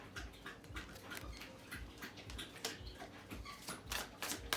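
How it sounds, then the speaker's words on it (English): A pet dog lapping water from a bowl close by, quick wet licks in an irregular run of soft splashy clicks, fairly quiet, with no speech over it. "My dog is just having a drink, guys."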